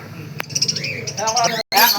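Pigeons of a Giribaz flying line in a pigeon shop coo and chirp close by, short calls repeating over a steady room hum while people talk nearby.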